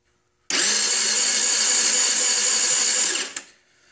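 A 50cc Chinese moped scooter with no spark is cranked over by its starter, giving a loud, steady, high-pitched whirring drone for about three seconds that cuts off abruptly with a final clunk.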